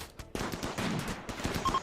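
Rapid gunfire from a modded RimWorld Alpha 16 battle, a dense run of sharp shots and short bursts that rattle on steadily for nearly two seconds at moderate volume, with no voices.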